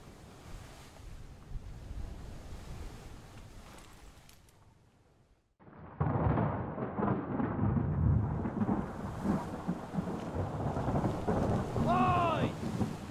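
A thunderstorm rolls in Return of the Obra Dinn, with heavy wind and surf-like rumble that fades to near silence, then bursts back loud and sustained, a short tonal cry rising near the end.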